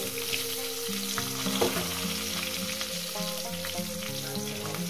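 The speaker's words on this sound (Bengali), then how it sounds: "এই তেলের মধ্যে আমি বেগুনগুলো একটু নাড়াচাড়া করে নেব।" Eggplant pieces fry in hot oil with a steady, close sizzle while being stirred, with soft scraping and clinks of the spoon in the pan and no voices.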